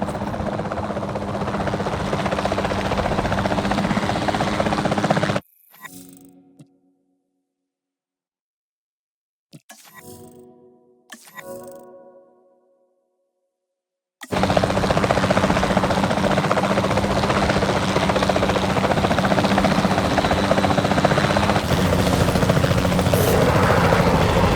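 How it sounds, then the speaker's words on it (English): Continuous loud rotor drone of a capture team helicopter flying in the video game Jurassic World Evolution 2, broken midway by several seconds of near silence with short tonal effects before the steady chopping roar returns. "Then the sensible thing is to take a capture team helicopter."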